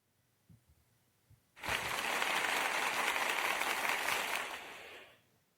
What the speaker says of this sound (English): We're gonna give him a hand clap as well.